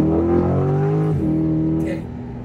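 A Chevrolet Corvette C8 sports car accelerates hard from inside the cabin, its loud engine note climbing in pitch, dipping through a quick gear change, then climbing again.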